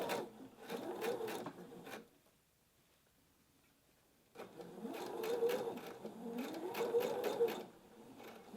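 A sewing machine stitches netting in two bursts of rapid mechanical ticking, close and quiet, with a short pause between them.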